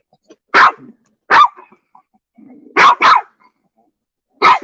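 A dog barks at a hyena toy in a series of sharp, loud barks, some single and some in quick pairs, with soft grumbling growls between them and no talking.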